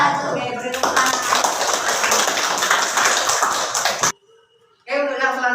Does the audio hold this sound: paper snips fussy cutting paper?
no